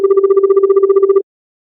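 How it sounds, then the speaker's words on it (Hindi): A mobile phone call gives off a loud, steady pulsing tone, rapid regular beats for just over a second, then stops dead into silence. "उसने एक मोबाइल उठाया और लास्ट डायल नंबर पर कॉल किया।"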